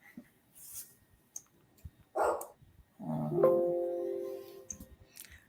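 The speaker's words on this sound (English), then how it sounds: "the dog's barking" A dog barks a couple of times indoors, with a short sharp yelp followed by a longer drawn-out whining bark, set against quiet room noise and faint clicks.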